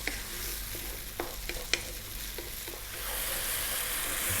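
Chopped tomato frying in a hot pan, a close, continuous sizzle broken by a few sharp scrapes and clicks of stirring, building slightly toward the end with no voices.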